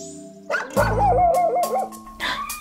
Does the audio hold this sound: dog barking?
yes